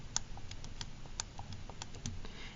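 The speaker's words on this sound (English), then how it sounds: "You can literally type that in your calculator." Calculator keys are tapped in a quick, irregular series of light plastic clicks, close and fairly quiet, with no talking.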